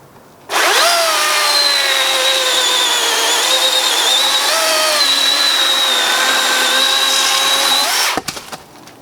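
A DeWalt 60V cordless chainsaw cuts through a log about 6 inches across, its loud steady whine holding for around eight seconds before cutting off abruptly.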